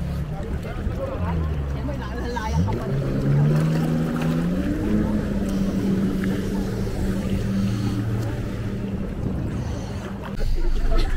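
Motor of an outrigger passenger boat at Boracay, a steady droning hum under wind and water noise, with people talking throughout.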